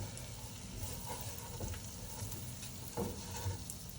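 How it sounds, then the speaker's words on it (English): A butter and flour roux sizzles in a pan while it is stirred, a steady quiet frying hiss with occasional scrapes of the spoon, and no one talking. "We just wanna make sure we get that butter and the flour mixed together."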